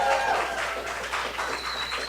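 A live audience at a podcast show applauds and cheers, a short dense wash of clapping and crowd noise heard close and fairly loud throughout.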